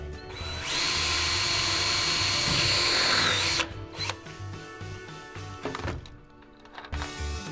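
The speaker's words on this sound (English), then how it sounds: "we're going to drill our mounting hole using the drill bit that's provided in the kit" A power drill whines loudly and steadily for about three seconds, drilling a mounting hole for an elevator ceiling, then stops, followed by scattered knocks, clunks and handling noises.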